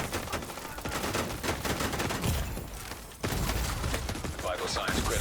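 Rapid video game shooter gunfire crackles in dense bursts of fusillade and automatic fire, fairly faint and steady across the clip with a short lull midway.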